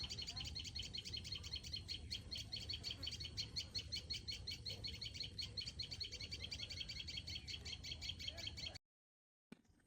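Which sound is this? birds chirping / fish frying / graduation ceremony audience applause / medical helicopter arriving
birds chirping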